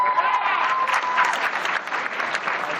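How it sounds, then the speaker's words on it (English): Wedding guests break into dense, sustained clapping at a reception, a loud close crowd of hands filling the whole moment with a few voices mixed in. "Big round of applause for Aubrey and Kristen for putting on the single greatest wedding of all time."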